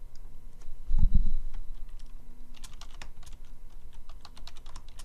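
Someone types on a computer keyboard, a quick run of light, irregular key clicks close by after a dull thump, entering a short name in software.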